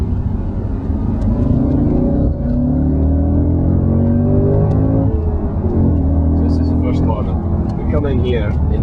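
An Audi RS 4 engine pulls hard in 4th gear on the Lime Rock track, loud and close with rising harmonic sweeps as it accelerates, with road rumble and some faint clicks near the end.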